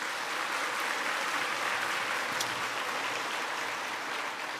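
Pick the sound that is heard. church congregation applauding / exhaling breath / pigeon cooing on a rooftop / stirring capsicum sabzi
church congregation applauding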